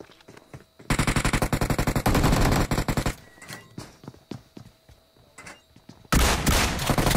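Gunfire from a DBS shotgun and other weapons in the PUBG Mobile video game: two loud, dense rapid-fire bursts with scattered sharper shots between them, close and forceful.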